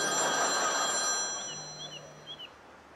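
Telephone ringing in a room, a steady electronic bell tone that fades and gives way to a few faint chirps, with no talk.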